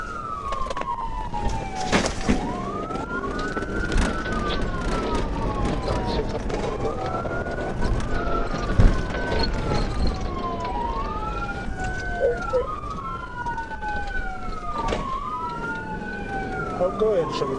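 Police car sirens wail continuously through a high-speed pursuit, a repeating rising-and-falling tone cycling steadily over road and engine noise, with scattered thumps and clatter.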